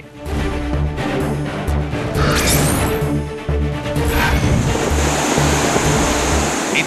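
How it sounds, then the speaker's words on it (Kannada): Floodwater released from the Tungabhadra dam rushes and roars. The heavy, continuous surge is broken by crashing bursts, and a low rumble pulses underneath. Nobody is speaking. "ತುಂಗಭದ್ರಾ ಜಲಾಶಯದಿಂದ ಅಪಾರ ಪ್ರಮಾಣದ ನೀರು ರಿಲೀಸ್ ಮಾಡಲಾಗಿದೆ"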